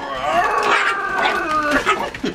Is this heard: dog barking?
yes